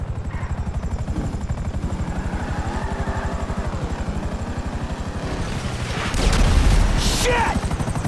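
Helicopter rotor thumping steadily in GTA V on PC, with a burst of gunfire and a louder blast near the end, all close and loud with a shout over it.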